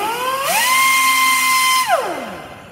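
A high-speed tire repair grinder revs up to full speed of 22,000 RPM, holding a loud, steady high-pitched whine close by before winding down in a falling pitch.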